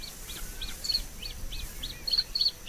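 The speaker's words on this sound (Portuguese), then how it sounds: "O canto do macho estabelece o território do casal." A male bluethroat sings in dry spring reed beds, a repeated series of high, clear whistled phrases and chirps in an even rhythm, moderately near against a quiet background with no voices.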